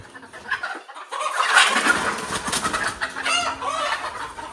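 Several free-range desi hens on a small poultry farm cluck and squawk close by in a busy, overlapping flurry that continues through the whole stretch, with no talking.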